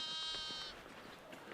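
Ewes in a lambing shed pen give a loud bleat that fades out, then faint rustling and shuffling remain.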